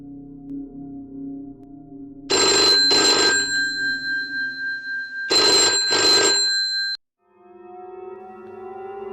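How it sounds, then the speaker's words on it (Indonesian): Telephone ringing in a film: two double rings, each a pair of short trilling bursts with a pause between, over a low musical background that continues afterward. "Tiba-tiba, telepon pun berbunyi lagi."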